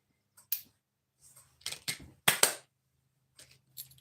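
A handbag clasp snaps shut several times, crisp close clicks and slaps in irregular bursts with quiet gaps between them.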